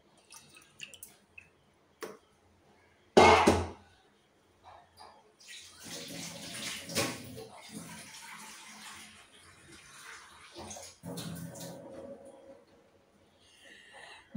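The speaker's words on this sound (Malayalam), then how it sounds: "ഇതിലേക്ക് ആവശ്യത്തിന് വേവാനുള്ള വെള്ളം നമുക്ക് ഒഴിച്ചിട്ടുണ്ട്" Water splashes into a pot of dry fish curry with chopped green mango, a short loud pour near the start, then softer sloshing and stirring noises over low background sounds.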